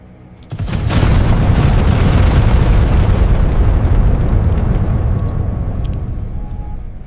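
Rocket ignition and lift-off on a column of fire: a heavy, sustained roaring rumble bursts in after a half-second and holds loud and steady to the end, with no voices.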